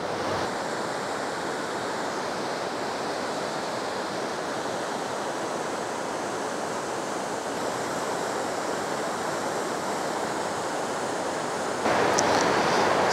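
A big river in Älvkarleby, Sweden, rushes downstream close to a power plant, giving a steady, broad roar of flowing water that holds constant throughout and grows slightly louder near the end.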